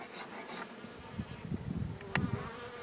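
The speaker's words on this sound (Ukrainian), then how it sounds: "Не дуже сильно беруть водичку наші бджілки." Honey bees buzz faintly around the listener, a soft insect hum with a few brief sharper buzzes passing close.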